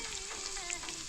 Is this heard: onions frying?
yes